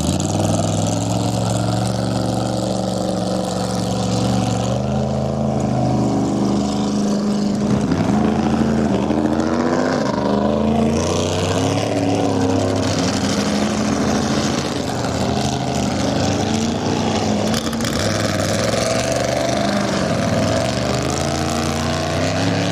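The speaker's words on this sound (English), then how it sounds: "All the boats are put in the water this time, and racing is underway." Loud, continuous roar of racing crackerbox motorboat engines, pitch rising and falling as boats pass close by, with no talking.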